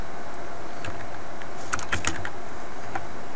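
Fingers tap out a Cisco EEM command on a computer keyboard, a quick cluster of close key clicks thickening in the middle and ending with a single firmer keystroke, no voices.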